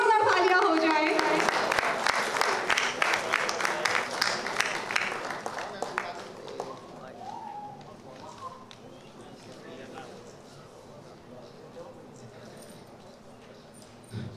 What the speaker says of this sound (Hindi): दोस्तों जोरदार तालियां हो जाए।